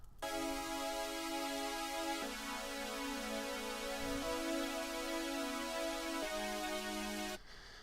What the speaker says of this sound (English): I added this shimmer pad.